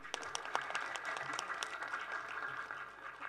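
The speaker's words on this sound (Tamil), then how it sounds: "சரியான கரகோஷம் வெயிட்டாக கொடுங்க." Audience clapping at a Tamil film audio launch for Nanbargal Narppani Manram: a steady, fairly quiet wash of hand claps with scattered sharper claps standing out, lasting the whole stretch.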